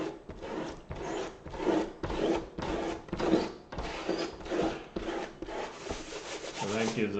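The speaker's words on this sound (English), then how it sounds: "let me take my pickup eraser." A pickup eraser rubs back and forth across watercolor paper while a snowy Christmas-card scene is painted, giving close, steady rasping strokes in a regular rhythm with no talking.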